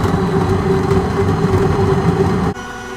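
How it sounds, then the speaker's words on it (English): Electric coffee grinder grinding beans to a coarse setting for a Bodum French press, a loud steady whirring drone that runs continuously and then drops off sharply near the end as the motor stops. "we want to make sure that our grinder is on coarse grind."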